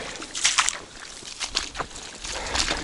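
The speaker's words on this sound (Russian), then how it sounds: "приходится вот по таким болотам идти" Footsteps slosh and squelch through a wet swamp bog, a few soft splashy treads spaced irregularly, close and fairly quiet with no talk.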